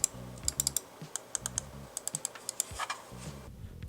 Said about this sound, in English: the click sounds are a hard click sound, unlike some of the softer clicks that you might find on more casual mouses